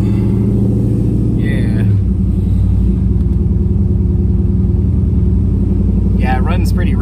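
A Pontiac Firebird Trans Am with a swapped LQ4 V8 and big cam, running rich, drones loudly with a low, lumpy rumble while driving, and voices are heard briefly at the start and end.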